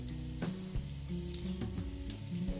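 Dried red chillies and nigella seeds frying in hot oil, a close, steady sizzle with crackling pops throughout and a few stirring knocks.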